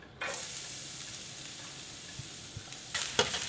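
Garlic frying in hot cooking oil in a pan, a continuous bright sizzle that starts abruptly and holds steady with a few light stirring knocks, close and fairly loud, no voices.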